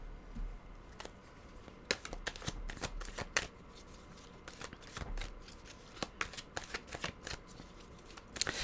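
Tarot cards are shuffled by hand, a steady papery riffle broken by repeated sharp card snaps and taps over about eight seconds, close and clear with no talking.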